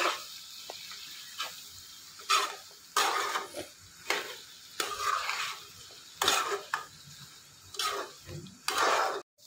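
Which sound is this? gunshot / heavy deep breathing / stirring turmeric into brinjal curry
stirring turmeric into brinjal curry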